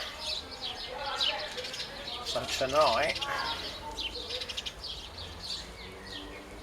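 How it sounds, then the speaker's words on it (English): Birds chirp and coo in the background, a mix of songbird calls and a dove, while a person speaks briefly over them. "The birds."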